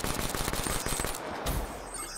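Gunfire from an automatic weapon in Black Ops 3 multiplayer: a fast, rattling burst of shots for about a second, then a softer, scattered tail of game noise.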